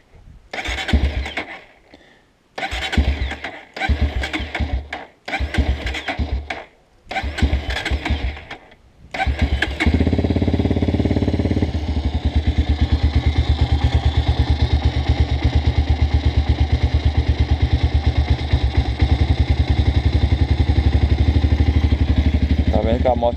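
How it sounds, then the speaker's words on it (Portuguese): A Honda CRF 230 dirt bike is cranked several times in short sputtering bursts, then catches and settles into a steady, loud idle close by. "Vamos ver se ela vai ligar de primeira."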